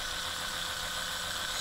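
Big Mould King actuators on a 17013 building-block model retracting, powered by a 6.0 battery box, giving a continuous smooth motorized buzz and high whir at an even, low level throughout, with no voices.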